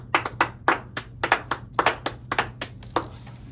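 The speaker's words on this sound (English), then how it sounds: "So let's give a round of applause for Big Dan." A small handful of people clap for a football pundit in a podcast studio, sparse and uneven close-up claps, a few hands over a few seconds with a low hum underneath.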